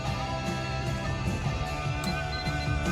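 A record plays through car speakers: a dense, steady 70s-style distorted rock guitar riff, continuous and fairly loud, with no voices.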